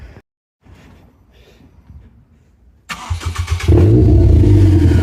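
A car engine with its exhaust cut open cranks briefly, then fires and catches into a loud, raw, rumbling idle, close and harsh after a few quiet seconds.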